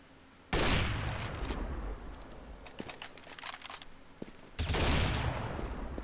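Counter-Strike gunfire on the Cobblestone map: two loud, dense bursts of automatic fire open and close the stretch, separated by scattered sharper shots and clicks at lower volume.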